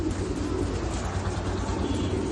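Racing pigeons coo in a steady, continuous murmur of low, overlapping calls, close by in a loft with constant background hum and no talk.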